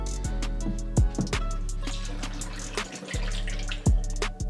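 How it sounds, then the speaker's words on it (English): White vinegar poured into an air-conditioner drain pipe, a steady liquid trickle with a few dull knocks and thumps from the pipe, close and fairly loud, with a brief break near the end. "Now I'm gonna pour my white vinegar."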